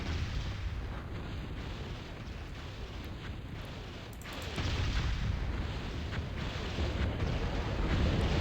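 In the StarCraft video game, Goliaths and Behemoths fire into the air at aircraft. The result is a continuous rumble of booming shots and blasts, growing louder partway through, with no voices.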